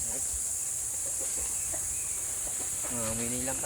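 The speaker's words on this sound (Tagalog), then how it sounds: "Ayan po, mga tandang natin." Roosters and chickens on a rice farm outdoors, with a clear crow-like call near the end over steady background hiss and scattered faint clucks.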